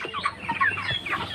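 A local desi chicken at a market stall in Katalia bazar clucks in a quick run of short, close, moderately loud calls.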